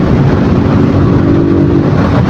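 A motorcycle rides on a muddy road under cloudy skies, its engine a loud, steady low drone with rushing wind, continuous and close, no talk.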